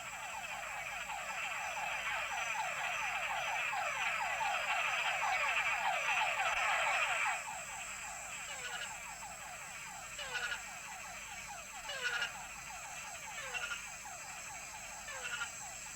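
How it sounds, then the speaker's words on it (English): Recorded mud puddle frogs call in a dense chorus of rapid, rasping croaks that overlap loudly for several seconds, then thin out into scattered individual calls over a fainter background. "They used recordings of the mud puddle frog."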